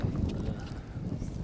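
Strong wind in a snowstorm on a frozen lake during winter pike fishing, roaring and buffeting the microphone as a loud continuous low rush with no break.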